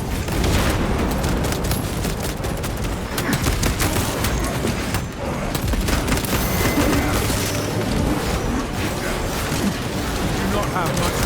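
Heavy booms and rapid, dense gunfire in a Warhammer 40,000: Space Marine 2 battle, a thick barrage of blasts and bursts that runs loud and continuous with voices in the mix.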